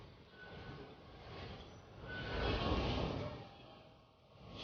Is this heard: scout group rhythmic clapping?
no